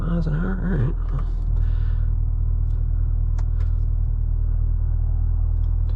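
A 2022 Cadillac CT5-V Blackwing with a six-speed manual cruises gently, giving a steady, close, low engine rumble. A voice talks briefly at the start, then the drone carries on alone.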